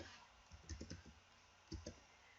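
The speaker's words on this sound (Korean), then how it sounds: "여기에다가 바로 키보드로 입력을 하는 거죠" Quick bursts of computer keyboard keystrokes, a cluster of clicks followed by a pause and a second short cluster, fairly close and moderate in level over a low background hum, with no voices.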